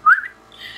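A person whistles one short, loud, rising note on a debate livestream platform, then a faint hiss fills the remaining moment. No talking is audible.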